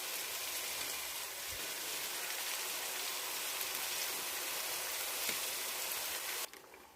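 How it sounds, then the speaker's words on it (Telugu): Fish pieces frying in hot oil give off a loud, steady hiss and crackle with a few soft spoon scrapes, the sizzle dropping off sharply near the end. "ముక్కలని నూనెలో వేసి కాసేపు అటు ఇటుగా ఫ్రై చేయాలి"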